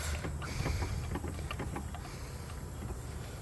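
Steady broadband hiss of air escaping from a cylinder of a Mercedes-Benz W124 engine during a leak-down test, continuous and fairly loud, with faint mechanical ticks scattered through it.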